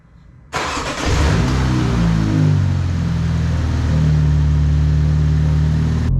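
A 2023 Mini Cooper S with a JB4 tune running in map 0 and standard mode starts up with a sudden burst, then its engine drones steadily and close, harmonics climbing and settling as the car drives along, with no talking.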